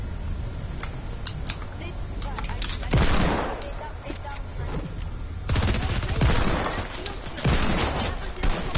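Heavy bursts of video game gunfire, loud and close, arrive in repeated volleys with sharp individual shots between them, while a voice talks over the action.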